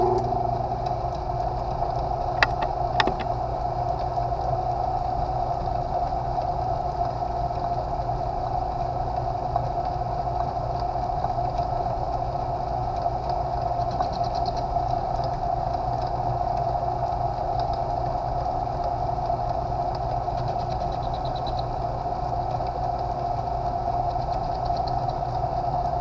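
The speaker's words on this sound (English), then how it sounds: "So I'm going to get the power feed adjusted to the right RPM, and then we'll start boring." A milling machine bores a part under power feed, giving a steady, even mechanical hum with a constant whine that runs unchanged for the whole stretch with no talking.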